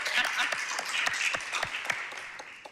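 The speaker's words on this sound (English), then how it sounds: "And a huge round of applause for Mary Jane Burke for everything she does." An audience applauds Mary Jane Burke at a Marin County community meeting on child care and early education: a steady, dense wash of many hands clapping that holds evenly for the whole stretch.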